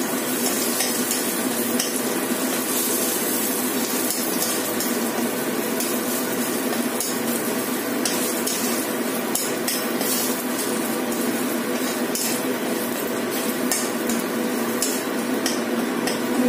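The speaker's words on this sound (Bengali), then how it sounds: "নিম পাতাটা একদম ভালো করে ভেজে নেবো" Neem leaves fry in oil in a pan, giving a dense continuous sizzle and crackle, loud and near, with occasional clinks of a utensil stirring and no talk.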